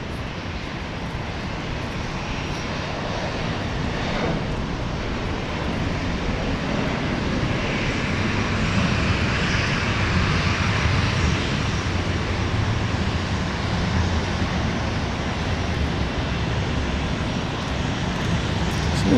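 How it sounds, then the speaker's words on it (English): An Allegiant Airbus A320 airliner lands at Dallas Love Field in the rain, its engines a loud, steady roar that builds gradually and holds through the whole stretch. "So there's the Allegiant Airbus A320."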